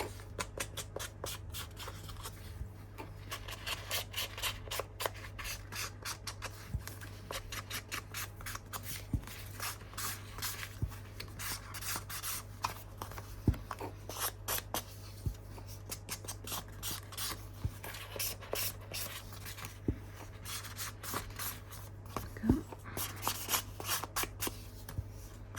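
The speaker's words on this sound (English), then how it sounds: "we're going to ink. Just takes away all that white space" Ink pad dabbed and rubbed along the cut edges of paper for a handmade junk journal folio, a steady run of soft scratchy brushing strokes, close and quiet, over a low constant hum, with no talking.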